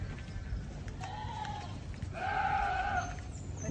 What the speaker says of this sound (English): You can probably hear the goats in the background.